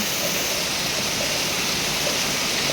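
Heavy rain pours over rice fields in the rainy season, a loud, even wash of noise that holds steady throughout.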